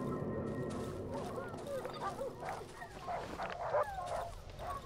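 A pack of dogs in the horror game Darkwood barks and yips at mid distance, with overlapping woofs and a few whimpers over a dark droning ambience.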